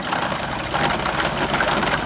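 A radio-controlled 6x6 MAN truck model runs its engine after shifting into second gear, giving a steady, close, buzzing mechanical drone with no speech.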